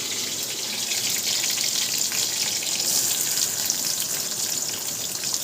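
Onion dropped into hot oil with curry leaves and green chili, frying in a steady, bright sizzle that crackles on evenly and close up, with no talking.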